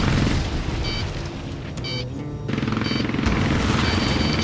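Dense aerial combat in Ace Combat Assault Horizon: continuous rattling gunfire and booming missile blasts over a roaring jet backdrop, loud and steady with brief alert tones cutting through.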